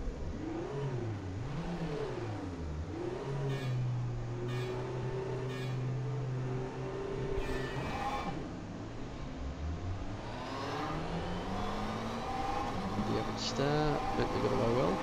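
The McLaren 650S GT3 race car engine in rFactor 2 at Imola roars steadily from the back of the grid, its pitch climbing and dropping through gear changes with other cars' engines layered around it.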